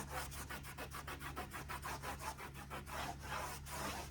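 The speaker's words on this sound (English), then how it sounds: "I'm gonna take just a rag and then kind of rub over it" A rag rubs back and forth over a waxed wooden coffee table in steady, quick strokes, a soft close scuffing rhythm with no voices.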